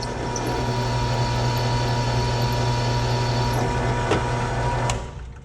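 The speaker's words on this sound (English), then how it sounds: "I'm now cutting full diameter of the drill in the aluminum casing" A drill whines steadily through an aluminum casing on a Yamaha YFZ450, a continuous high mechanical grinding with a faint ratcheting texture, then winds down near the end.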